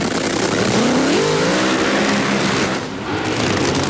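Two 3,000-horsepower Top Fuel dragsters do a burnout at the 1986 NHRA US Nationals, a loud continuous engine roar whose pitch rises and wavers as the tires heat.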